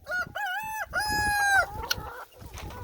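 A farmyard rooster crows loudly and close, two drawn-out harmonic calls followed by shorter clucking notes, with no talk over it.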